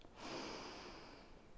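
A single deep inhale during a yoga exercise, a long airy breath that swells quickly and holds steady for over a second, soft and close with no talking.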